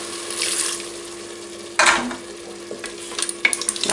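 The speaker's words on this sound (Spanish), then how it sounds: "Le vamos a echar los 40 de vino blanco." Sizzling onion and pepper in a pot as white wine is poured in, a loud hiss bursting up midway over steady frying crackle, followed by scattered pops and stirring.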